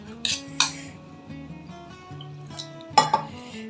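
Pumpkin dosa batter being mixed in a bowl, with a spoon scraping and clinking against the sides in irregular strokes, several sharper knocks standing out, close and clear with no talking.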